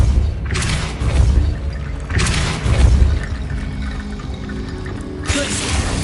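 A Depulso force spell cast in Hogwarts Legacy, heard as three heavy booming whooshes with a splashy, surging tail, spaced about two seconds apart over steady game background noise.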